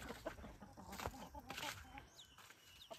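Chickens cluck nearby in short bursts at a chicken nest, with faint bird chirps and some soft human voices in the background.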